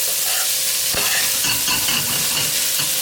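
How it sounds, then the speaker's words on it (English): Risotto rice with pistachio and radicchio being stirred in a hot pan: close, steady scraping strokes over a soft continuous sizzle, with no talking. "So now we're gonna stir that up."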